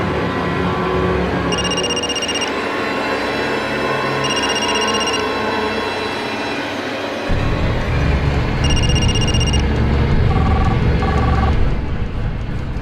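A telephone rings repeatedly without being answered, bursts of an electronic double-tone ring spaced a few seconds apart over loud background noise, a brief different tone sounding near the end.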